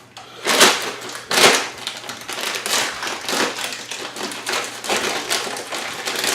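Crinkly plastic rustles and crunches in irregular bursts, close up, as a bag is handled and cut open with scissors.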